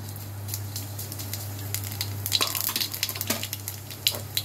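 Black cumin seeds hit hot oil in a wok with a close crackling sizzle that swells into dense spitting pops midway, all over a steady low hum and without speech.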